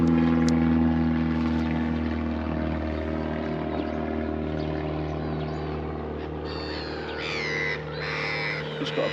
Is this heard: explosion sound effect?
no